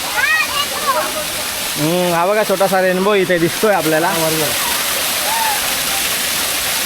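A small monsoon waterfall at Devgad in Konkan rushes and splashes in a steady roar, while someone talks over it.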